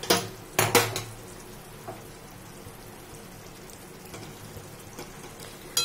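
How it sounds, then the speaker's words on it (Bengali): A metal lid is lifted off a pot of fennel-seasoned potatoes boiling in water: a few bright clanks and rattles come in the first second, then a faint, quiet simmer with an occasional light clink. "চাপাটা এবার খুলে দেখে নেব আলুগুলো সেদ্ধ হয়ে গেছে কিনা।"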